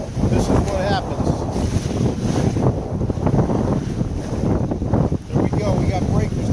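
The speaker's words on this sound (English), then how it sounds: "We got breakers coming at us." Breakers from a stirred-up Pacific Ocean pounding an O'Day 272 sailboat, a loud, continuous wash of surf and wind buffeting, with voices speaking over it throughout.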